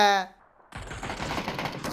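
Gunfire in a shooter video game: after a short tonal burst and a near-silent gap, dense rapid shots crackle continuously, loud and close, with no talk.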